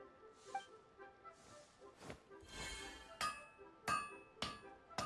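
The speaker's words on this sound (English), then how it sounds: "the sounds of hammering" A Genshin Impact cutscene carries a run of sharp metallic hammer strikes, about half a dozen irregular clanging blows with ringing overtones, growing denser and louder toward the end, with no talking.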